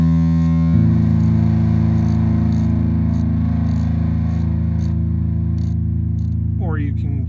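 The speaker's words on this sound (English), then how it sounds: "it determines what the mix is between a clean room reverb and then the distorted reverb in the tails" A sustained, heavily distorted reverb wash from an Empress ZOIA pedal patch mixing clean room reverb with distorted tails rings out as a loud steady drone after a sharp onset, fading into a brief rising warble at the end.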